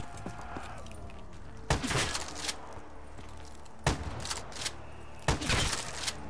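Pump shotgun blasts in the video game Black Ops 3, three sharp loud reports spaced a couple of seconds apart over a low background hum.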